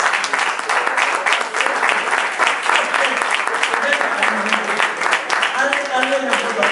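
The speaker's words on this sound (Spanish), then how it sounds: "Yo le quiero dar un aplauso a Juan Moya." An audience at a live event in Algeciras applauds steadily and fairly loudly, and a voice rises over the clapping near the end.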